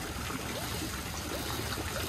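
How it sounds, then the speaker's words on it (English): Water trickles and gurgles steadily into the bottom of a fishing boat, a continuous close splashing flow with no break and no talking. "Water going in the bottom?"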